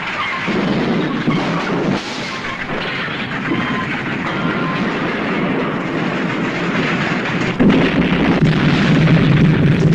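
A train runs on rails in The Burning Train film, a dense, loud, continuous rumble and rattle of wheels and carriages, steady for the whole stretch with a slight surge near the end.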